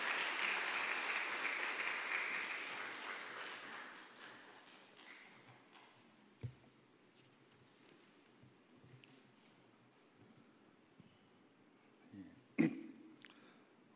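A church congregation applauds during a Sunday service, a broad wash of clapping that starts strong and fades out over several seconds, followed by quiet room tone with a few thumps and a cough.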